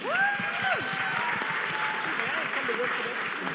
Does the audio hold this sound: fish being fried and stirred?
no